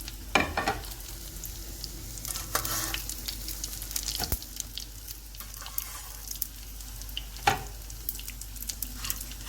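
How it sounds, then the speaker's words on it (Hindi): Potato tikkis fry on a tava griddle with a continuous sizzle, broken by a few sharp spatula clacks and bursts of louder crackling. "और इसी तरह से हम बाकियों को भी फ्राई करते जाएंगे।"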